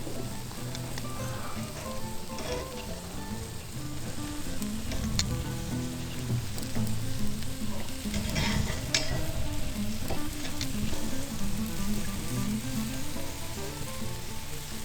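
Ribeye steak searing on a Goldens' cast iron kamado grill, a steady dense sizzle and crackle of fat with occasional sharper pops and scraping stirs, close up, with no talking.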